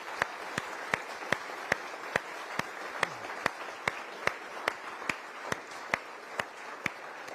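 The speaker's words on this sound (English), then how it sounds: "So let's end with another round of applause for the two of them." Audience applause at a live political Q&A event, a steady wash of many hands clapping with sharp regular taps standing out, moderately loud and sustained throughout without speech.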